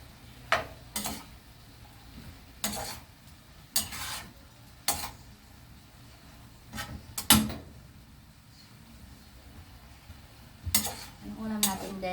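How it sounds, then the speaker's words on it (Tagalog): Food being stirred in a pan while dinner cooks, with a faint sizzle underneath and sharp scrapes and clinks of the utensil against the pan coming in separate bursts. "Mikos-mikos. Mikos-mikos natin."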